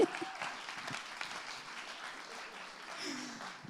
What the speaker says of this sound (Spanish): Usted den un aplauso a lo que está aprendiendo en el día.